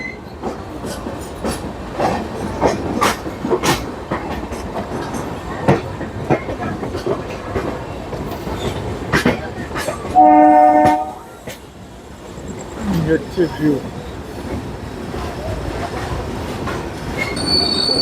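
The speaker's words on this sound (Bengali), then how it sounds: "এখানে আর একটা এক্সপ্রেস ট্রেন না এটা লোকাল ট্রেন রয়েছে" A local train sits at a station on Indian railways. Wheels squeal and clatter and a short horn blast sounds, over a busy background with brief talk.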